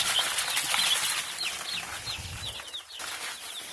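A flurry of wings beating as startled homestead chickens flap about nearby, with scattered clucks mixed into the busy rustling.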